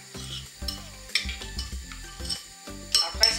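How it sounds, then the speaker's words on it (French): Potatoes being tossed with oil, salt, pepper, sweet paprika, ginger and curry for an oven lamb roast, heard as repeated close scraping and clattering strokes of mixing in a dish, with no talk. "on mélange bien"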